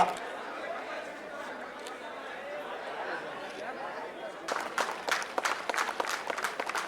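A crowd at a sports flag-hoisting ceremony murmurs at first, then breaks into loud, crisp applause with many hands clapping together, under continuing chatter.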